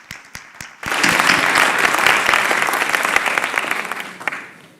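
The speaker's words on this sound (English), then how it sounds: "another round of applause for the CEO" A few scattered claps swell into a full, dense round of audience applause at an annual lecture, honouring a CEO, holding steady and loud before slowly thinning out.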